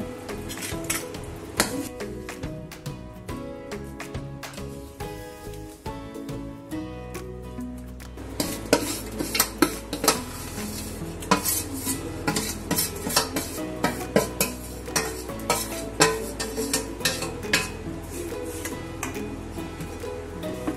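A spoon stirs a rava besan ladoo mixture around a pan, scraping and clinking against the metal in a steady, fairly loud rhythm with no talking, over a steady musical bed.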